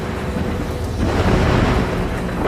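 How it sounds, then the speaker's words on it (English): Violent storm striking a colonial settlement: heavy rain roars steadily throughout while low thunder rumbles and swells midway, loud and dense with no voices. "the settlement was hit by a violent storm."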